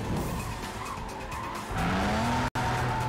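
Video game car's tires squeal in a rising skid over a revving engine in Cruis'n Blast, loud and close, with a brief cut near the end.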